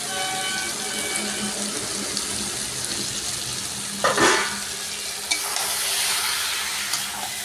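Steady loud sizzling of goat meat frying in a pan with spices, with a spoon scraping and stirring through it now and then.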